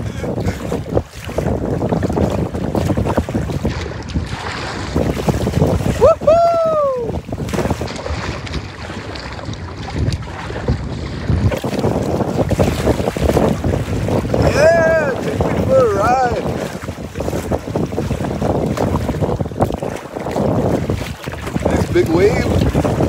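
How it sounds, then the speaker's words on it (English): Strong wind buffets the microphone as big waves slap and rush against a kayak on Lake Athabasca in 30 km/h winds, a loud, continuous roar of water and gusts with brief whoops and voices over it. "Big wave."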